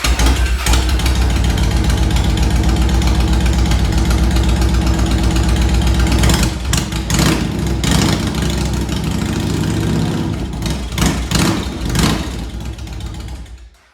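A Yamaha Warrior ATV engine idles loud and close in neutral, a steady low rumble that wavers and sputters slightly in the second half before fading out at the end, no talk.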